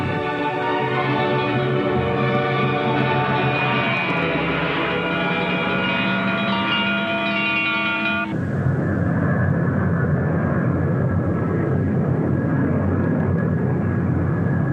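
RAF fixed-wing aircraft in flight before an emergency landing, engine drone loud and steady throughout with a shift in pitch partway through, no talk over it.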